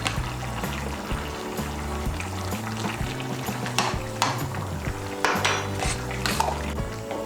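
A utensil stirs a paste of ghee and ground cardamom, clove and cinnamon into a Bengali vegetarian soybean kofta curry in a pot. Scattered metallic clinks and scrapes sound close by over steady background music.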